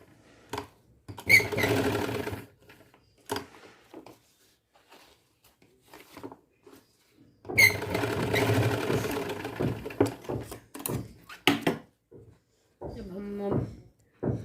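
An electric sewing machine stitching an Afghani salwar, running in two rapid rattling bursts, one short and one longer, with quieter handling clicks and brief pauses between.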